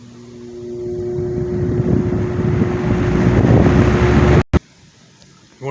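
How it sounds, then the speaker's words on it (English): A 1970s Lakewood 20-inch box fan starts up and builds to a steady, loud whirring hum with wind buffeting, rising for about four seconds before cutting out abruptly into quiet. "You want to make sure the fan comes to a complete stop if you want to get a good startup sound."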